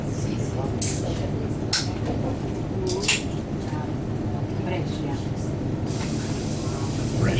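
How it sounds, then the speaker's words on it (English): A Trenitalia train rumbles steadily with a constant low roar and occasional hissing as it arrives at Brescia station, Italy, while a voice makes a public announcement over it. "We are now arriving in Brescia."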